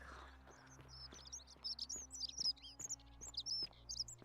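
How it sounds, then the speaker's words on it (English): A loud bird in the video game Forgotten City chirps in quick, repeated bursts of tweets close by, over a low ambient hum and faint footsteps. "God, that's a loud bird."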